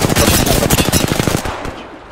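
A rapid burst of automatic gunfire in a video game shooter, a dense rattle of close loud shots lasting about a second and a half before fading out.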